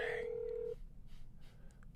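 A phone call rings out unanswered, a single electronic tone lasting under a second before fading into quiet room noise.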